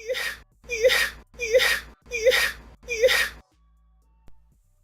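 A voice imitates a growling stomach with five rhythmic groaning, gurgling moans in a row, then falls quiet.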